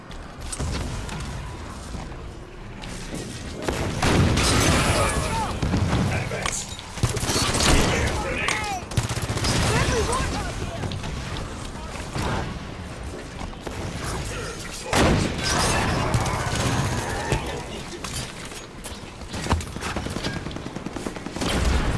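Sustained Halo 5 video game gunfire against an enemy turret, dense bursts of automatic fire and booming impacts running nearly the whole time, loud and continuous, with game voices talking over the combat.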